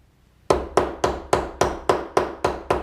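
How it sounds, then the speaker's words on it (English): Eight sharp metallic taps of a hammer or punch shaping a small metal dome in a dapping block dimple for a peacock pendant, struck at a steady quick rhythm, close and clear with nothing else around. "want to tap right on the edge, take the dimple right up to the edge of the block here"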